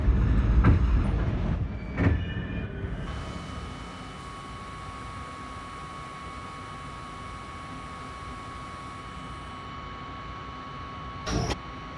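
An R38 A subway train running between 39th Street/Slicen and 124th Street/Birchlands: a loud rumble and clatter at first settles into a steady hum with a sustained tone inside the car, then a brief sharp burst near the end.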